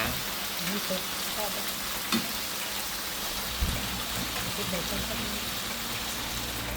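A pork head and eggplant stir-fry simmers in a pot, giving a steady, close bubbling hiss like light frying that runs evenly throughout with only a couple of small clicks.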